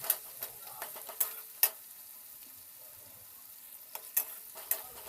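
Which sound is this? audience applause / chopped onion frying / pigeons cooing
chopped onion frying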